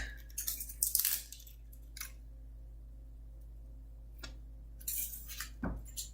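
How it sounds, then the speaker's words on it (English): An onion is coarsely chopped with a knife into large chunks, giving a few scattered crunchy cuts and knocks on the board in short clusters, close and fairly quiet, with no talking. "So just to chop the onion coarsely, I'm just going to get it into some more manageable sized chunks."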